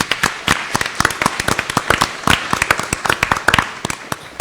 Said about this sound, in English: if we could just, publicly just give them a round of applause, those individuals who were here